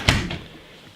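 A door leading to a one-car garage in a furnished single-family home gives a single short thump near the start, then fades into quiet room tone.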